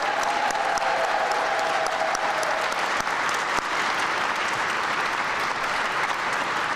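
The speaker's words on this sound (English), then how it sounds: "And another just big round of applause for our awardees." A steady, dense round of applause from an audience at an afternoon awards ceremony honoring awardees, sustained and even throughout with a faint tonal hum early on and a few sharper claps standing out.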